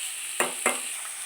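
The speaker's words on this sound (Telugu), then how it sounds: "ఉల్లిపాయలు బాగా ఫ్రై చేసుకుందాము." Onions fry in a pan with a constant bright sizzle, broken by two quick scraping stirs close up, no voices.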